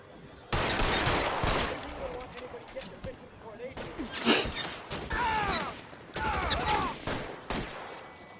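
Bursts of machine gun fire in the L.A. Noire video game crackle in several loud clusters, separated by short gaps, while voices talk over and between the shots.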